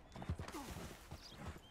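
Horse hooves clip-clopping softly alongside faint snorting and a brief whinny in the video game Red Dead Redemption 2, fairly quiet and close, with no talking over it.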